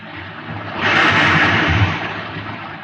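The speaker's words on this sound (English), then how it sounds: "You can hear the roaring of the gases in the test chamber behind me." A rocket reactor engine roars in a test chamber in a 1950s science-fiction radio drama, a dense, steady broadband rush that swells louder partway through and holds, with no voices.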